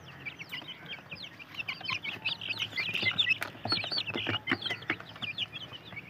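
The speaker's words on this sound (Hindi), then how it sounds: "इन्ना चूजे दी इस टाइम उम्र है तकरीबन दो महीने" Two-month-old chicks peep and chirp continuously in a dense, busy chorus of overlapping calls, with clucking fowl mixed in, fairly close and steady throughout.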